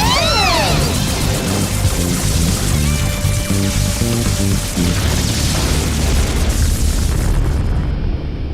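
Cartoon micro missile storm blasts boom and burst in a dense, continuous barrage, loud and layered, with rushing whooshes over a rumbling low end.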